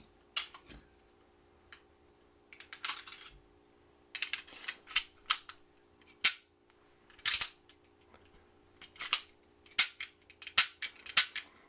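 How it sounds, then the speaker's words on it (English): Smith & Wesson Model 39 pistol being cycled by hand with a magazine inserted, giving a series of sharp metallic clacks and snaps at irregular intervals, close and distinct over a quiet background. "we can see that the action is working properly"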